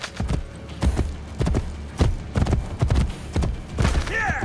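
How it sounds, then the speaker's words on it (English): A horse in the video game Assassin's Creed Brotherhood gallops with steady, rhythmic hoofbeats, fairly close and loud, ending in a brief whinny. "Hey, we can actually gallop this time."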